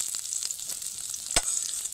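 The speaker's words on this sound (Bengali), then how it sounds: "ঠিক এরকম লাল লাল করে ভাজতে হবে।" Onion and garlic fry in a pan, a steady soft sizzle with a few faint clicks and one sharper tap near the end, heard alone.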